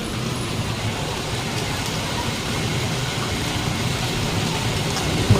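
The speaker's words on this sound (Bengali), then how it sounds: "বৃষ্টি হচ্ছে," Rain falls steadily outside a home, a dense, even wash of noise that stays constant without pauses.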